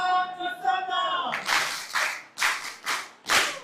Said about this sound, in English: Put our hands together and we clap for the facilitator once again.